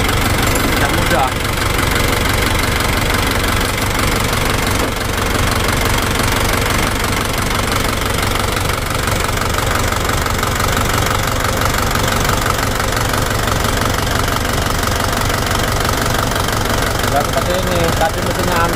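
A Toyota Dyna truck engine with a faulty injection pump idles roughly and shakes, a loud, steady knocking rumble running the whole time with voices underneath.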